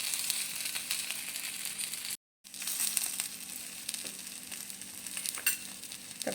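Semolina-coated bread slices fry on a tawa griddle, giving a soft, steady sizzle and crackle close by, with a brief silent gap partway through.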